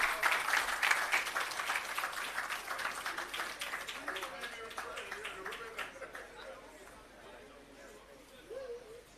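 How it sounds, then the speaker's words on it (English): An outdoor audience at an irrigation system commissioning ceremony claps steadily, loudest at first and then fading. Chatter and a voice are heard faintly toward the end. "Please give her a round of applause."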